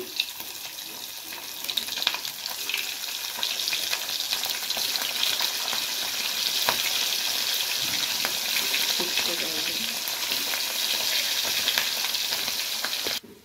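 Steamed eggs go into hot oil and fry with a loud, continuous sizzle that swells slightly after the first few seconds and holds steady until a short drop at the end.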